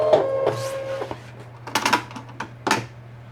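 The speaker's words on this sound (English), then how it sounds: "and I'll eject my mat." A Brother Scan N Cut cutting machine ejects its cutting mat, giving a mechanical whir followed by a few short clattery bursts over a steady low electrical hum, close and fairly loud.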